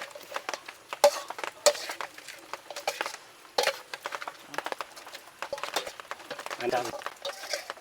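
Onion pickle being stirred in a pan, producing a run of close scraping and clacking strokes, some sharp and some softer, with a faint sizzle underneath and no one talking.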